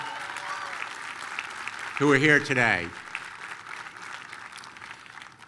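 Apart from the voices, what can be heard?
audience applause at commencement ceremony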